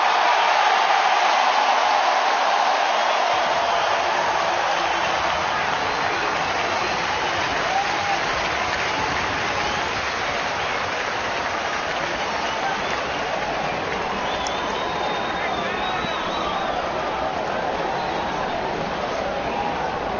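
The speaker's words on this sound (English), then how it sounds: "They're still standing. They're still cheering." A large baseball stadium crowd roars and cheers continuously at a Yankees vs. Cincinnati Reds game, a dense, loud wash of noise that holds steady throughout with faint applause mixed in.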